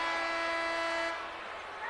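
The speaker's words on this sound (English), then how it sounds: "Whistle blows." A referee's whistle blowing at a 1983 college basketball game between North Carolina and Wake Forest, a long steady shrill tone sounding loud over arena crowd noise for about a second before fading into the crowd.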